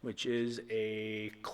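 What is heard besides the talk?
No distinct noise like a dog, phone or traffic.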